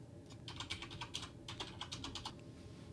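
Credit card details typed on a computer keyboard, a quick, quiet run of close key clicks in an irregular rhythm, alone with no voice.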